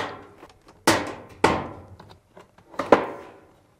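Locking tabs on the top panel of a Fisher & Paykel clothes dryer being released, giving three sharp plastic-and-metal clunks with a few lighter taps between them, close and distinct, with no voices.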